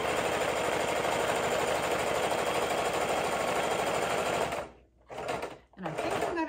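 Sewing machine running a continuous straight stitch through leather, a steady loud mechanical whir close by that briefly stops and restarts near the end.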